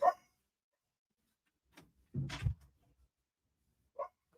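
Dogs in a home office give a few short barks and yips, scattered and somewhat distant, separated by quiet gaps.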